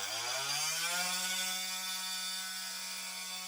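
An oscillating multi-tool, its holed blade screwed to a tent pole, runs as a makeshift concrete vibrator on log cabin footers. It gives a loud, steady mechanical buzz that climbs slightly in pitch at the start, with no talking.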